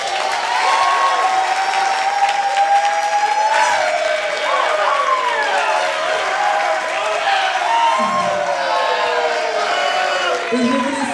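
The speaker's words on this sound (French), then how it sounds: "je veux un tonnerre d'applaudissements pour les 2 listes." A packed university lecture hall at a student campaign event erupts in loud sustained applause for two student lists, with cheering, whoops and shouting voices riding over dense continuous clapping.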